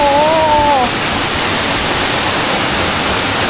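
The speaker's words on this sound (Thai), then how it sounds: "ผมไม่เคยเจอน้ำตกในถ้ำ" A waterfall pours inside a cave in Slovenia, a dense, constant roar of falling water filling the space, with a brief whistle-like tone at the start before the steady wash continues alone.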